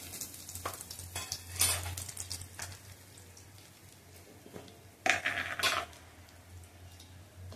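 Turmeric and coriander-cumin powder hitting hot oil in a pan for a Maharashtrian festival thali, giving short bursts of sizzling with faint clinks of utensils against a quiet kitchen hum.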